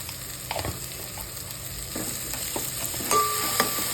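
Mutton sizzles in a pan as it is sautéed for a spicy mutton rasa with turmeric, a steady low frying hiss broken by a few stirring scrapes and clinks, close and moderately loud with no talking.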